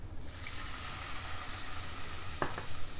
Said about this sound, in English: You can hear that sizzle sound.